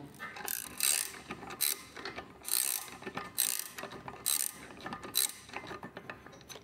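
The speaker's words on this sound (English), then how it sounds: "Looks like this might want to be one of those rare times where a ratchet spanner's reasonably useful." A ratchet spanner works on the lower unit of a Johnson 30 hp outboard motor, making quick close clicking bursts in a repeated back-and-forth rhythm, with no talking.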